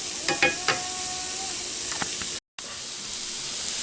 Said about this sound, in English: Got the sausage cooking up